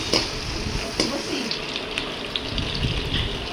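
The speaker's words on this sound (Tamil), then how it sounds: "10 சின்ன வெங்காயம் போட்டுக்கலாம். நல்லா கிளறி விட்டுக்கலாம்." Small shallots stirred into hot oil with popped mustard seeds and curry leaves for a country chicken curry, giving a close, steady crackling sizzle with light scraping from stirring and no voices.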